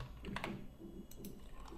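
Quick, close key clicks from typing on a computer keyboard come in a short uneven burst, with no voices over the quiet room.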